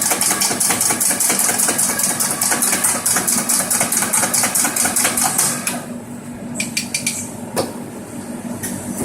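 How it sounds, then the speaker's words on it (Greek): An espresso coffee grinder grinds beans for a double cappuccino with a loud, steady buzzing whir that stops partway through, followed by a few sharp knocks and taps. "Κόβουμε το καφέ μας."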